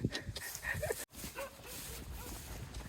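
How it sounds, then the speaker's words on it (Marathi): A dog barking from a distance along a wooded trail on a hill plateau, faint yelps and barks carrying across open ground, soft and far off with no clear voices. "देव मामाच्या कुत्र्याने लांबूनच आमचा काय म्हणतात आदरातिथ्य केले."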